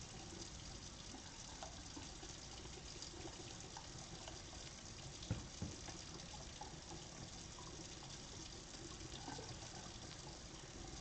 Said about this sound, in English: Alright, so I just filled this up with water.